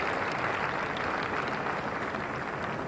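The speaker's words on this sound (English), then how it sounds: "that is the 100 partnership between John Wright and Andrew Jones, and applause all rounds" Cricket crowd applauding a 100 partnership at a 1992 New Zealand v England Test match in Wellington, a steady, dense wash of clapping that holds evenly throughout with no voices breaking through.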